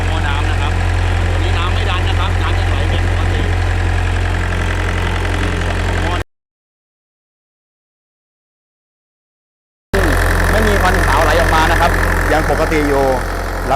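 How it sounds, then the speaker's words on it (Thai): A steady idling Nissan/Hanix mini excavator engine rumbles close by with a constant low drone and spinning fan, cut by a few seconds of silence before the running resumes. "ใบพัดเครื่องยนต์หมุน"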